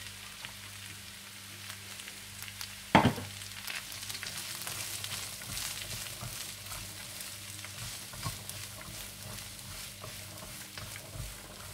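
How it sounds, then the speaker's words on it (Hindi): Carrots, peas and capsicum frying with ginger and garlic in a pan, a steady close sizzle with one sharp clatter early on and faint stirring scrapes throughout. "जब अदरक लहसुन हल्का सा लाइट ब्राउन हो जाए तो आप इसमें गाजर डाल दें, साथ ही मटर डाल दें और शिमला मिर्चें भी डाल दें और थोड़ा सा भून दें।"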